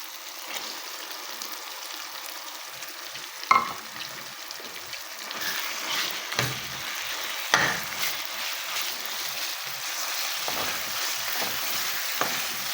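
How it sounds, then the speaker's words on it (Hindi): Boiled, coarsely pounded mustard greens stirred into tomatoes frying in a pan: a steady close sizzle with scraping stir strokes and occasional sharper clatters, heard without talk. "अब इस साग को हम इसमें टमाटरों में डालेंगे।"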